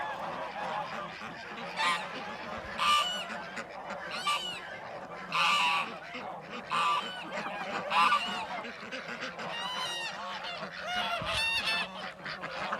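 A flock of farm geese honking loudly and repeatedly, with overlapping calls in bursts over a constant background murmur of birds.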